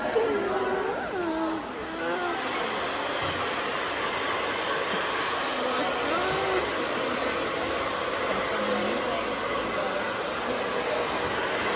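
A hair dryer runs continuously at a beauty school salon, a steady loud airy whoosh that holds for the whole stretch while people talk faintly over it.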